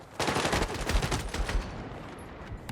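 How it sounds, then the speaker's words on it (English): Gunfire from a semi-automatic DMR in the video game Battlefield 6, a rapid burst of loud, sharp shots firing in quick succession, then tailing off into lingering echo. "I've been having a blast playing Battlefield 6"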